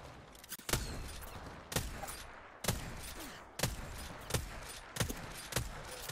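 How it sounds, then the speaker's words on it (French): Gunfire in a video game, aimed at the player: single sharp shots crack out roughly every second, about eight in all, each followed by a short echoing tail over a low background. "On me tire dessus."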